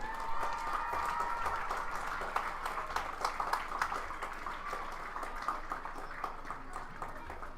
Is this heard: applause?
yes